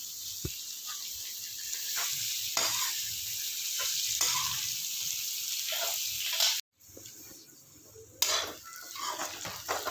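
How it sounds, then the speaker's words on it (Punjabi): Onions, garlic and green chilli fry with bay leaf and cumin in a pan, a steady close hiss with occasional spoon clinks and stirring, broken by a brief dropout near the end. "ਹੁਣ ਪਾਵਾਂਗੇ ਆਪਾਂ ਹਰੀ ਮਿਰਚ ਤੇ ਲਸਣ ਪਾ ਦਾਂਗੇ ਆਪਾਂ ਪਿਆਜ਼ ਇਹਨੂੰ ਚੰਗੀ ਤਰ੍ਹਾਂ ਭੁੰਨ ਲਾਂਗੇ"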